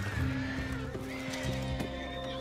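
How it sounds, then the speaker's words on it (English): Horses in the video game Red Dead Redemption 2 neigh and whinny repeatedly, loud and close, with hoof clatter mixed into a dense game soundscape. "Them horses is going crazy."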